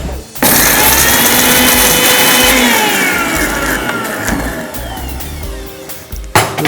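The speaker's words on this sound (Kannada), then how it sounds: "ಇದಿಷ್ಟನ್ನು ಹಾಕಿ ನುಣ್ಣಗೆ ರುಬ್ಕೋಬೇಕು" A kitchen mixer grinder whirs loudly and steadily for about six seconds while grinding a paste with green chili powder masala, its motor pitch sagging slightly under load before it cuts off, with a brief clatter at the end.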